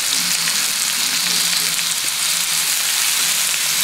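Minced garlic and vegetables sauté in a pan for a sweet and sour shrimp stir fry, giving a steady, even sizzle with a soft crackle that stays close and constant with no talking.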